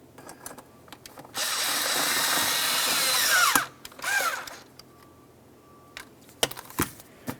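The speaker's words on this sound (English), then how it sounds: "With everything aligned, we can tighten that clamp." A power tool drives the air filter housing clamp tight on a 1994-2002 Dodge Ram 2500, a steady close whir lasting about two seconds, then a shorter burst, followed by faint clicks and handling noises.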